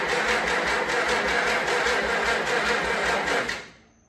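A 1950 Farmall Cub tractor engine being cranked to start, giving a steady, loud rhythmic churning with regular pulses that runs for several seconds, then drops off abruptly at the end.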